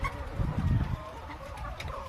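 Chickens at a large poultry farm on Bantayan, clucking and chattering in a dense, close flock with a louder burst early on, over a steady barnyard murmur.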